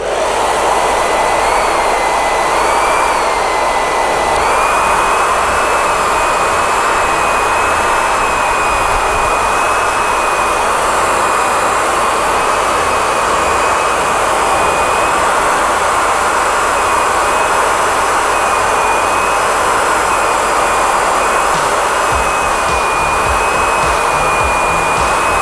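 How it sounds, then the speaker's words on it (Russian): A hair dryer blows hot air close up while carbon decals are heated onto a scale model part, a loud, continuous roaring whoosh with a steady whine that shifts slightly in pitch early on. "Снова фен."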